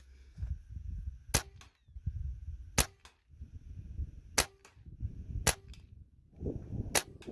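A Benjamin Maximus .177 air rifle fires 17 grain dish-base slugs at a 40-yard target, giving five sharp, loud cracks at uneven intervals over soft background rustle.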